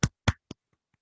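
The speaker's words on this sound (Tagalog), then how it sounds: "Let's give a big hand to group number 6" A few quick claps from a Zoom class call for a student group, three sharp hand claps followed by two faint ones, close and isolated.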